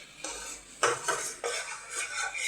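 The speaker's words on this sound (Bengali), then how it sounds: "মশলাটাকে কষিয়ে নিই।" Spice masala for a pointed gourd curry being stir-fried in a pan, a few distinct metal spatula scrapes and clanks against the pan over a soft background sizzle, close and moderately loud.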